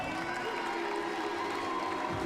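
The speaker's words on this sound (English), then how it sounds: "a round of applause as the players leave the stage" Steady applause from a darts audience at the World Masters as players leave the stage, a continuous dense wash of clapping and crowd noise throughout.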